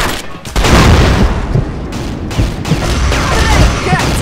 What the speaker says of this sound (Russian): Ложись, граната!